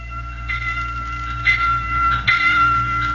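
A warning bell sound effect in a 1945 radio broadcast rings out in three bright strikes over a steady low hum, each tone hanging briefly before the next.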